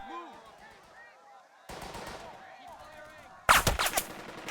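In the World War II video game Burden of Command, machine gun and mortar fire break out: quieter game sounds first, then a harsher rattle, ending in loud, rapid bursts of gunfire.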